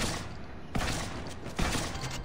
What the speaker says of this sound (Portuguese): Mais um tiro.